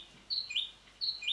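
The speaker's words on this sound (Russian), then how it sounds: "Птица! Птица! Так, она о чем-то поет." Bird chirps in two short bursts of high, bright tweets, a pair of quick rising calls each time, fairly clear over a quiet background with no talking.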